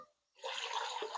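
Water being poured into a soup pot of black bean and rice soup, a steady broad splashing rush that starts after a brief quiet gap and continues to the end, fairly close and alone.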